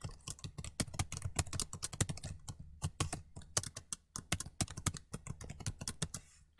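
Rapid typing on a computer keyboard, a dense run of sharp, close key clicks with brief pauses, heard alone without any talking.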